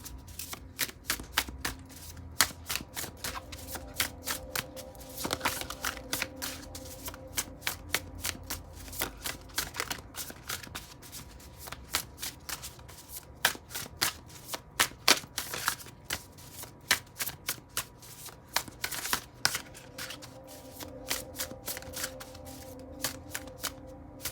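A deck of tarot cards is shuffled steadily for a psychic reading. Rapid riffling flutters run on for over twenty seconds, quiet but close and continuous, with no speech.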